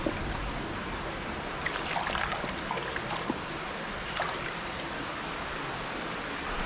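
A found object being rinsed by hand in a shallow stream: steady soft babbling, trickling water with a few faint splashes and sloshes, no talking.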